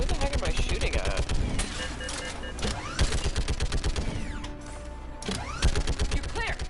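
Dense Mass Effect 3 firefight: rapid bursts of automatic gunfire and single shots crackle almost nonstop, with explosions and sci-fi weapon effects layered among the shooting.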